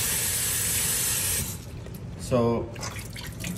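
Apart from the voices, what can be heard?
washing soaked chickpeas with tap water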